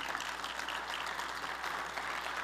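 A church congregation claps together in a continuous, dense wash of applause, steady and moderately loud across the whole moment with no voices standing out.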